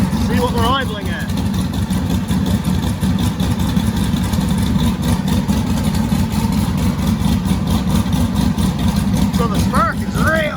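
A car engine with knock sensors and a wideband gauge idles roughly and violently throughout, a steady loud rumble with uneven pulsing, heard under ongoing talk.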